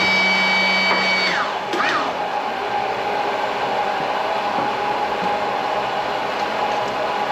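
Press running while copper is pulled out of large stators, a steady loud mechanical whir and hum with a falling tonal sweep early on, continuous without voices.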